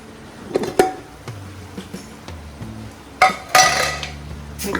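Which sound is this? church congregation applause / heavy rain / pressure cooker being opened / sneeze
pressure cooker being opened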